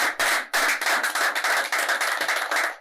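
A studio audience applauds on a French television show set, a dense, steady burst of clapping that fills the whole stretch at close range.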